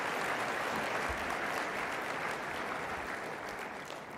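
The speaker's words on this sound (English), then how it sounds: "let's have another round of applause for our outstanding coaching staffs" Convention audience gives a round of applause for the coaching staffs, a broad even wash of clapping, moderately distant, holding steady and easing slightly toward the end.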